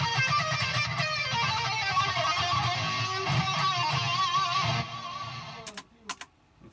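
Electric guitar on a regular low-gain lead tone with delay, playing sustained melodic lines that ring out loudly, then cut off near the end, leaving faint scattered handling noises.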